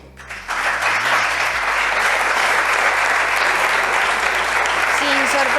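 Deputies in a regional parliament chamber give sustained applause, a dense, loud roar of many hands that rises quickly and holds steady, with a low electronic hum and faint tonal sounds underneath.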